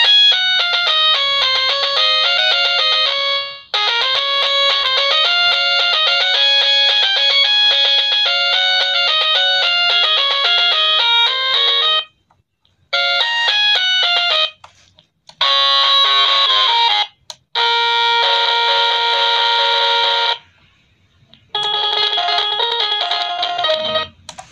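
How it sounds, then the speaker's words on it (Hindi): Thin, beeping electronic melodies from a kids' toy piano keyboard play its built-in demo songs in bursts, several short tunes separated by brief pauses, bright and tinny. "यहाँ पे जो सॉन्ग्स मेंशन है डेमो, वही इसकी टोन्स बज रही हैं"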